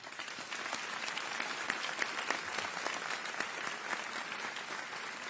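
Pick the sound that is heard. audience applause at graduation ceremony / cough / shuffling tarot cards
audience applause at graduation ceremony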